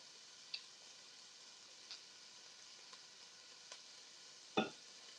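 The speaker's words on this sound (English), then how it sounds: "We're just sauteing this a little bit. This is just one full onion." One whole onion sautéing in a pan, giving a soft continuous sizzle with a few small ticks and pops and one sharper crackle near the end, fairly quiet and close with no talking.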